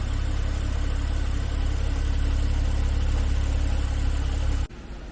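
A 2011 Porsche 911 Speedster engine idles close up in a steady, even low rumble with no revving, cutting off abruptly near the end to a quieter background.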